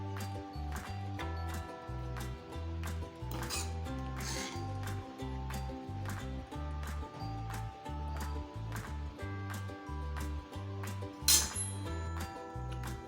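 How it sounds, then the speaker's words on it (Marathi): Dhaba-style shev bhaji being served onto a plate, with repeated close clinks and scrapes of a spoon against cookware and plate, steady and rhythmic, plus a sharper clatter near the end, against a continuous low hum. "आता ती मी एका प्लेटमध्ये काढून घेणार आहे"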